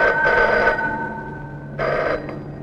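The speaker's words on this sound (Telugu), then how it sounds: "ఎంకో ఫోన్ సార్" An old-style telephone bell rings in two loud bursts with a short silent gap between them, heard alone over a faint low hum in a scene from a 1996 Telugu comedy film.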